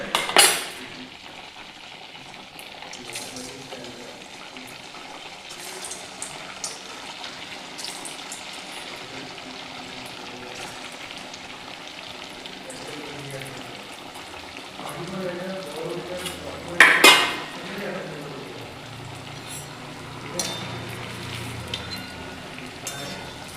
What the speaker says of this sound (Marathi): एक एक करून वडे तळून घेऊ.